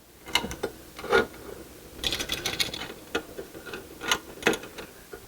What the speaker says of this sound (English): We're going to bring it in, and we're going to screw it in there to hold the wire in place.